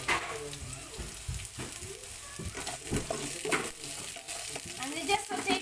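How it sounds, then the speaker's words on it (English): Chopped onion sautéing in a pan for Filipino pork humba, a busy sizzle and fry under repeated scrapes and stirs of a utensil against the pan, with clinks of cookware close by. "And we just saute the onion first until it gets translucent."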